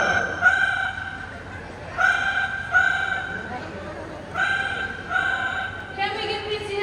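A parrot imitates a ringing telephone at a bird show, giving clear, repeated high electronic-sounding trills in regular bursts over faint background noise.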